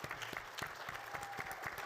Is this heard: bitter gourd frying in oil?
no